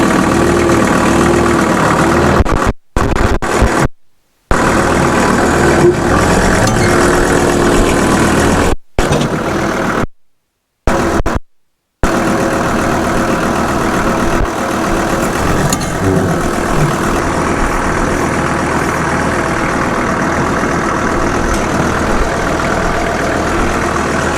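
A 1985 square body truck engine runs steadily as it is driven into a garage, a loud close rumble broken by several short dropouts, with no talking.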